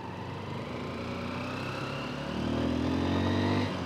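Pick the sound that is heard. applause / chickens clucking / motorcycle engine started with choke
motorcycle engine started with choke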